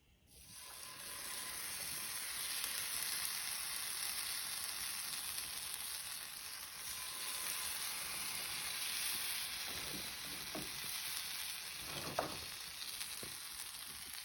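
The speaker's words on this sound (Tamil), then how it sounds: "இவற்றில் தவாவில் ஃப்ரை பண்ணும்" Brussels sprouts, dipped in batter like bajji, fry in oil on a tawa with a steady sizzling hiss throughout, joined near the end by a few soft scraping stirs.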